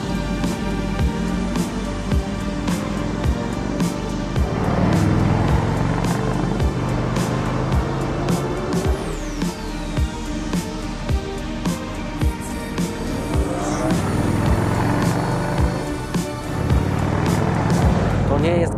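A Harley-Davidson V-Rod motorcycle with its Porsche-developed V-twin engine rides along, its engine note rising and falling in repeated surges, heard loudly under near-continuous talking.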